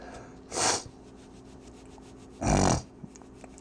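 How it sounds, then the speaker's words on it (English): Two short, close nasal sniffles about two seconds apart, heard alone against a quiet, low background hum. "Sorry about the sniffles."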